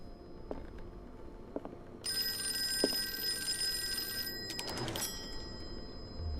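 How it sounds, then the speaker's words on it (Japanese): A telephone rings in the Call of Cthulhu video game, a bright electronic ring sounding steadily for a couple of seconds, then cut short by a clatter as the handset is picked up, over a quiet ambient background. "あ、電話鳴った。"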